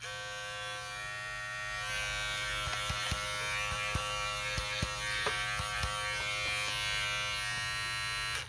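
A small electric detailer clipper, just repaired after looseness in its motor housing, hums steadily and close with a bright buzzing whine, plus a few faint ticks, running continuously alone.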